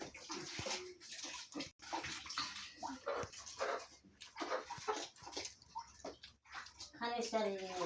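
Water runs and splashes in a rural mountain village home, a continuous noisy gush with clattering bursts, while a dog whimpers and people talk over it.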